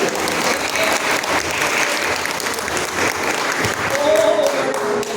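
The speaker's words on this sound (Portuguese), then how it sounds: "E as palmas louvam o Senhor" A church congregation applauding in praise, steady crowd clapping throughout, with voices and a brief sung or spoken tone rising near the end.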